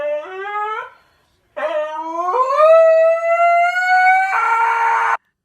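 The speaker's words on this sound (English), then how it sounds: "Is that what a real husky sounds like? That's a video of a husky." A husky howling and yowling from a played video, long wavering rising cries with a brief pause between, loud and close, ending in a harsher strained note.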